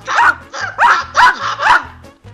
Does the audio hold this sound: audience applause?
no